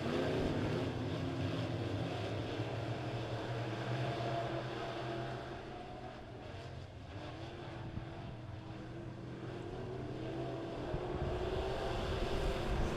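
Midwest modified race cars run a heat race on the dirt track at Springfield Raceway, a steady, distant roar of several engines that swells and fades slightly as the field circulates.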